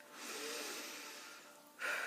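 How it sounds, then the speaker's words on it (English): A single slow, deep cleansing breath drawn in and released during a tapping routine for pain, a soft steady airy rush heard up close and alone, ending in a sharper exhale. "at the end of the sequence, it's really good to take a nice deep breath. So it's a real cleansing breath."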